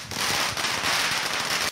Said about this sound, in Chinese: 彩券行门口放鞭炮庆祝